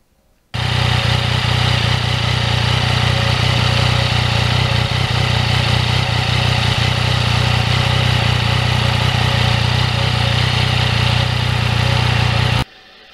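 Yamaha MT-09 2020 crossplane motorcycle engine running steadily at a constant, loud level for the whole stretch, with a strong low rumble and no talk.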